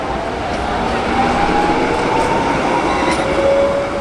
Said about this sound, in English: this is the tram 2 right behind me